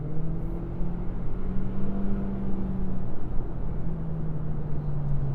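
Steady road and engine drone from inside a 2026 Toyota Corolla XSE cruising on the highway, a continuous low hum with faint tonal whine, even and unbroken throughout.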